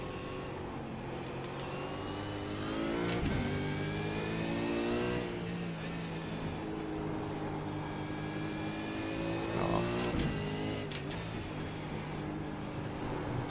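A V8 Supercar engine in the iRacing sim at Oran Park revs continuously, its pitch climbing and dropping through short-shifted gear changes, with a steady, mid-loud rasp and no talk.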